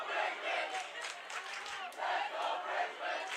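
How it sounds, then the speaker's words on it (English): The Fort Lee home crowd at a varsity football game against Eastside, cheering and chanting in rolling swells, a broad, somewhat distant roar of many voices. "Fort Lee crowd getting loud, getting really into this one."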